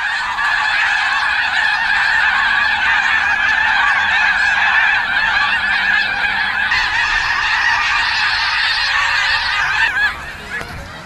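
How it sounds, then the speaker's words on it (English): A flock of geese in a farmer's field honks loudly and continuously, many overlapping calls close by, thinning out abruptly near the end. "There is a constant coming and going as flocks take off and land with audible noise."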